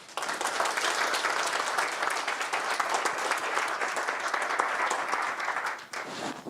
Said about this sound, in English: So I want to give them all a round of applause.